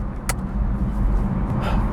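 A BMW i3 electric car drives along with low road rumble and tyre noise from inside the cabin, plus a couple of brief sharp clicks or breaths, steady and moderately loud, with no talking.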